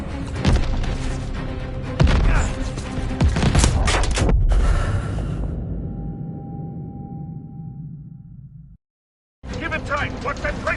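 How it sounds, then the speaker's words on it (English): Heavy tracer gunfire and booming impacts in Call of Duty Vanguard, loud rapid bursts in the first few seconds that fade into a long rumbling decay, then a short silence before more battle noise and voices return. "What's that tracer fire?"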